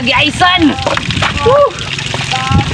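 Water sloshes and splashes as someone bathes outdoors in a rural province, with a continuous stream running nonstop, while voices talk and call out over the splashing close by.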